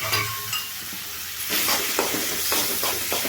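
Tomatoes and ginger-chili-garlic paste sautéing in a pan over full flame, a bright sizzle with repeated scraping stirring strokes, close and fairly loud, with no speech.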